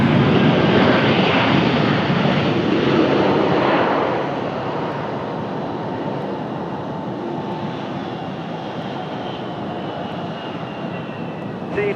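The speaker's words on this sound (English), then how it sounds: "Nice smooth touchdown for the A319." An Airbus A319 airliner touches down and rolls out on the runway, a loud broad engine roar that eases after a few seconds into a steady, softer rumble as the jet slows.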